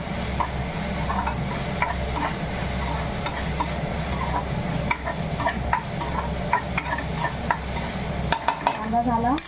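Onion, garlic and chili sizzling in a pan while being stirred, continuous frying crackle with repeated scraping and clacking strokes of a spoon, close and fairly loud.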